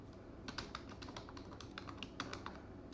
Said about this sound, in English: I'm going to enter the password